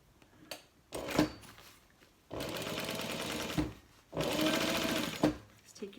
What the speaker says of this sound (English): we're going to fold it up and top stitch about 1/8 of an inch away on top of this vinyl